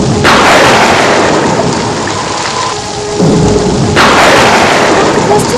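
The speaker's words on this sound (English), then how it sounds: "It was raining." Heavy rain pours loudly and steadily in a soundtrack for a children's story of Krishna's birth, with deep thunder rolling in broad swells near the start and again toward the end.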